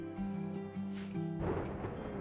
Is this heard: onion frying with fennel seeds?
no